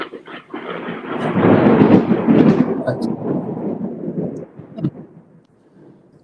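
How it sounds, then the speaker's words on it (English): A heavy roll of thunder from a lightning storm rumbles loudly for several seconds, building to a broad peak before fading into a softer tail with a last faint crack near the end. "there was a big thunder that was going off"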